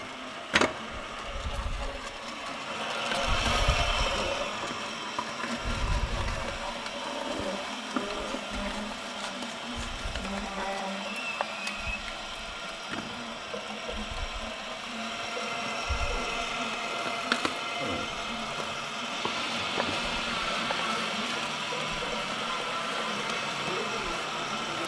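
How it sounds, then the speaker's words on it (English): A Santos N65 stainless steel commercial slow juicer runs at changing speeds, a low motor drone and grinding churn rising and falling under someone talking throughout. "I'm just going to run it through, check some different speeds here"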